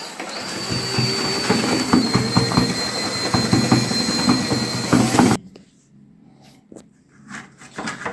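A steady, grinding mechanical whir of an electric mixer stirring cement-based waterproofing mortar churns on for several seconds, then cuts off abruptly, leaving quieter scraping and clattering.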